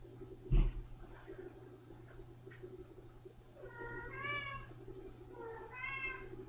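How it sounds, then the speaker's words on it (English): A cat meows twice in the background, drawn-out and tonal, after a sharp knock near the start, over a steady low hum. "If you hear that meowing"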